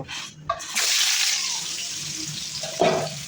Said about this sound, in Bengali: আর দেখো তেল গরম হয়ে গেছে আমার, পটল আমি দিয়ে দেবো